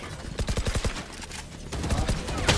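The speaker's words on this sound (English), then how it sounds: "Placing swarm grenade. Swarm grenade out." Swarm grenade in the Valorant video game bursting in a quick series of sharp, rapid pops, a dense cluster early and more toward the end, fairly close and loud.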